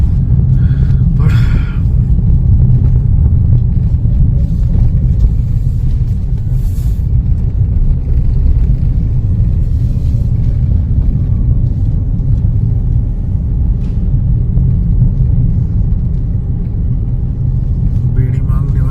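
Low, steady engine rumble from inside a moving car, continuous and fairly loud throughout, with faint voice in the background.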